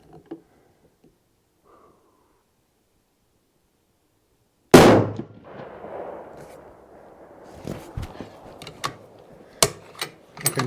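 After a long quiet stretch, a single sharp rifle gunshot cracks close by outdoors while testing an Apex Optic 3-15x44 scope, followed by a fading echo and scattered small clicks and knocks.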